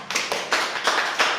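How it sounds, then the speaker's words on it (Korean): A church congregation at a middle and high school youth worship service claps in unison, four evenly spaced claps in a steady rhythm, with a faint murmur between them. "우리 다 같이 하나님께 영광의 박수 한번 올려드리겠습니다"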